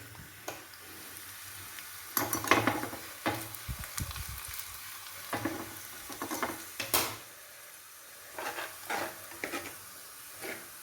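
Onions for an Angamali-style mango curry sizzle in a hot clay pot off the heat, a soft steady hiss broken by scattered sharp clinks and scrapes of a spoon stirring against the pot.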